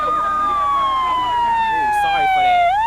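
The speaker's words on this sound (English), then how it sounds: "Sorry for that. That siren." An emergency vehicle siren wails loudly outside, its tone sliding steadily downward as it passes close by, with a person talking over it.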